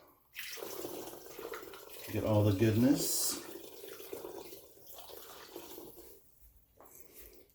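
Homemade blackberry cordial is poured and swirled out of its container, a steady liquid trickle and splash that peaks partway through and carries on more softly under a speaking voice.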